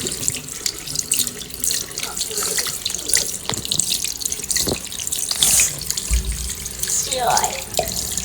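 Hands being washed under a running tap to rinse off mehndi, steady close splashing water in a sink, with occasional voices in the background.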